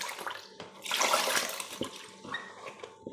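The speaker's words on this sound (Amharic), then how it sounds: "አሁን ውሃ ነው የማደርግለት እንደገና ማለት ነው። ብዙ ውሃ ይፈልጋል።" Water is poured into injera batter in a home kitchen: a broad, splashing gush swells near the start, then trails off into quieter trickles and small sloshing sounds, up close with no talking.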